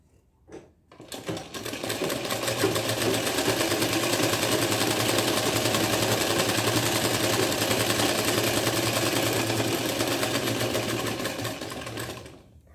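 A sewing machine runs continuously stitching a 3/8 inch seam in fabric, a steady fast mechanical whir held for about ten seconds after a brief start, close and alone with no talking.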